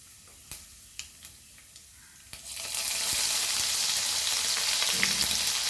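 Cumin seeds and crushed fenugreek seeds hit hot oil after a few light clicks, bursting into a loud, steady sizzle that holds to the end.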